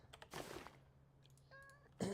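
A cat gives a short meow, followed by soft scuffles, a faint tone and a brief rustle, quiet and close, no speech.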